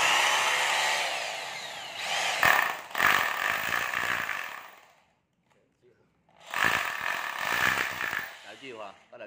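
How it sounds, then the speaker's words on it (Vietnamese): A Hitachi two-function concrete hammer drill with variable speed runs in loud, rough bursts, revving for several seconds, cutting out to silence, then starting again. "Số 11 là một cái cây khoan ba tông hai chức năng của Hitachi."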